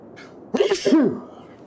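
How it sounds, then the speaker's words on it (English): A single loud, close sneeze, a sharp intake followed by an explosive burst, over a quiet room. "I need to sneeze."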